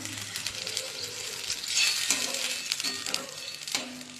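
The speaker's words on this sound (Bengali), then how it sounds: "আলু আর কুমড়োটা দিয়ে একটু টেলে নিলাম, এবার জল দিয়ে দেবো।" Water is poured into a pan of frying potatoes and pumpkin for a Bengali fish curry, bringing a steady close sizzle that swells briefly, with occasional stirring clatter.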